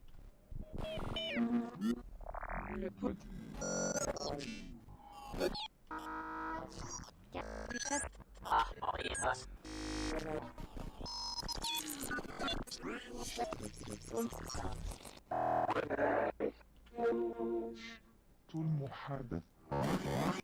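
Choppy, warped vocal fragments with pitch sweeping up and down erratically, loud and dense, broken by brief gaps.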